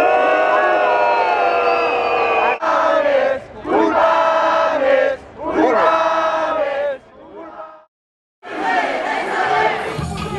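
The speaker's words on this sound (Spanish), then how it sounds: "un abucheo per a los acusados" A protest crowd at a 15M gathering boos the accused, a loud sustained mass of jeering voices with shouts that swells and dips, stops for a moment near the end, then surges back.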